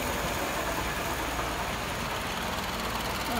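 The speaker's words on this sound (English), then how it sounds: "Okay, idle RPM is coming up." A Doc Dave's 539S aircraft engine idling during its final ground test, a steady dense loud drone with no breaks across the whole stretch.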